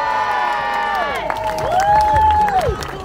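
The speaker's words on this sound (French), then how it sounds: "j'ai dit les applaudissements du public." Crowd at a running race awards ceremony applauding and cheering, with shouts and whoops rising over scattered clapping, while a bright tonal whistle-like sound sweeps up and down.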